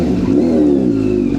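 A superbike engine revs close and loud at the start of a ride, a brief throaty rising growl with no voices over it.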